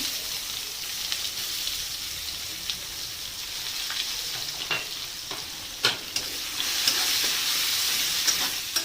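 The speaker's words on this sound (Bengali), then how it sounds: "এবার দিয়ে দেবো সাদা জিরে, কালো জিরে ফোড়ন, দু টুকরো তেজপাতা, পেঁয়াজ কুচি," Chopped onion fries in hot oil with white cumin, black cumin and two bay leaves for a tilapia fish curry: a close, steady sizzling hiss with scattered crackles and a few louder pops, without talk.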